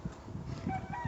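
A single odd-looking rooster kept with a backyard flock lets out a short, faint call that sounds close but quiet, with no talking.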